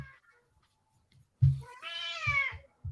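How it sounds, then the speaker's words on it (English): Domestic cat giving one clear, drawn-out meow lasting about a second, close and loud after a short quiet stretch, with a few low thumps around it. "Sorry, it's my cat."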